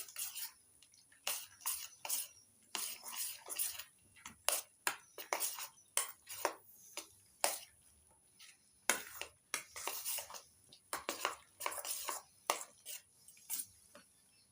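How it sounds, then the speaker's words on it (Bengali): Eno fruit salt is mixed into semolina cake batter in a bowl, with a spoon clinking and tapping against the sides in irregular, close bursts over quiet gaps. "ইনোটা ভালো করে মিশিয়ে নিচ্ছি ব্যাটারের সঙ্গে।"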